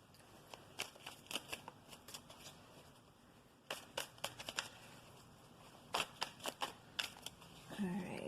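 Tarot cards being shuffled by hand close up, bursts of crisp riffling clicks in several quick runs with short pauses between.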